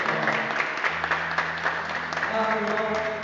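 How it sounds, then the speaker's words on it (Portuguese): A church congregation applauds during a charismatic Catholic talk on baptism in the Spirit, steady clapping over sustained musical tones and a murmur of voices. "Vamos aplaudir ao Espírito Santo"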